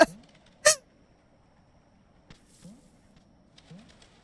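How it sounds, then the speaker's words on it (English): Noisy crows in the video game Animal Well give a few short, honking caws, two sharp close calls at the start followed by softer, spaced calls against near silence. "Those crows, they are so noisy."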